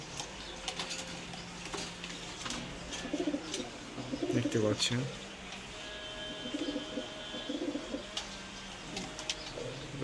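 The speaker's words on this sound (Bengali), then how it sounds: "গ্রামে গুলারে বাংলা কবুতর বলে" Bangla pigeons cooing in soft, repeated low rumbling phrases close by, with a person speaking briefly and faint background noise.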